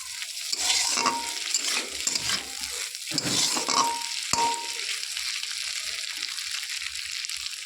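Chopped leftover potato frying in a pan with turmeric before cooked rice goes in, giving a continuous sizzle with spatula stirring and scraping and a few light metallic clinks against the pan. No one speaks.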